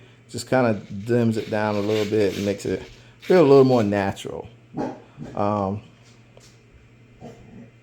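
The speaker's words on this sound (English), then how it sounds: "That's my dog in the background, guys." A pet dog barks indoors in the background, fairly faint beneath someone talking close to the microphone for most of the stretch.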